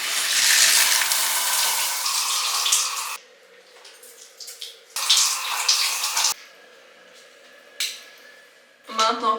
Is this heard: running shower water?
yes